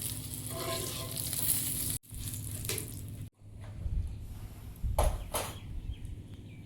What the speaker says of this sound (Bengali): ভেন্ডিগুলো ভাজা হয়েছে, তুলে নিচ্ছি।